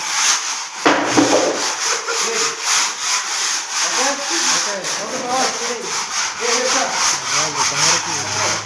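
A hand scraper rubbing and scraping across a surface to clean it before spray painting, a continuous loud rasping stroke after stroke, close up.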